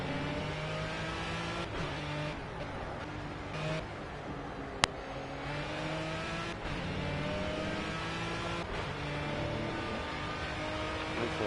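A race car engine in Project CARS drones steadily at high revs with a constant, loud, close whine over a rolling lap, shifting pitch slightly at gear changes, with no voices.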